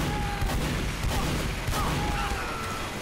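Gunfire in Team Fortress 2 during a Halloween match, a continuous crackle of overlapping shots and booms from several weapons, dense and loud throughout with no pause.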